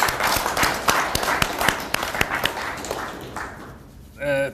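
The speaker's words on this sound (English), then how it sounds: "Let's clap for the team once again." An audience claps for a team at the launch of an issue of The Influential Bulletin. The steady, fairly loud applause tapers off near the end, and a voice briefly cuts in at the close.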